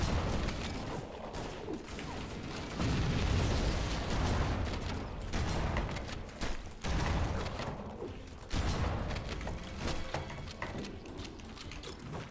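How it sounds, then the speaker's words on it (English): An explosion in Halo: Combat Evolved erupts as a dense, loud burst of rumbling noise. Crackling, gunfire-like pops and mechanical clatter continue around it. "Where did that explosion come from?"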